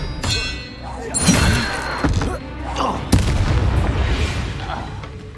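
Expelliarmus spell cast in the Hogwarts Legacy video game, heard as a series of loud booming magical blasts and thuds with crackling bursts, a sharp impact near the middle and another strong hit past the three-second mark.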